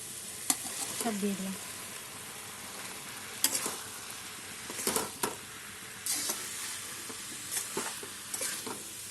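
Fried jackfruit and potato pieces tipped into sizzling, oil-separated masala for a Bengali shrimp and jackfruit curry, with steady frying hiss broken by several sharp stirring scrapes and clinks, close by; a voice speaks briefly.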